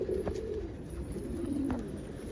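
Pigeons carrying frill stencil, among them a black cockbird, coo in two low murmuring phrases, fairly quiet and near, with a couple of faint clicks between.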